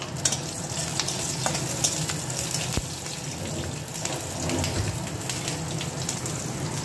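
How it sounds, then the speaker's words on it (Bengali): Bay leaf, a green chili, cumin and panch phoron sizzle in hot oil for a Bengali hilsa fish curry with vegetables, a dense crackling fry with scattered pops and a stirring clack, no speech. "তেজপাতা, একটা কাঁচা লঙ্কা, আর দিলাম এই যে একটু জিরে, একটু পাঁচফোড়ন"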